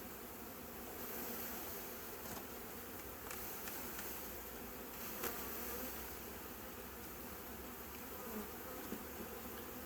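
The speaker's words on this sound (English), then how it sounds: "As you can see, there's still a ton of bees inside of there." A large mass of honeybees from a shaken package hums inside a hive in a soft, continuous drone, fairly faint, with a few light knocks and no talking.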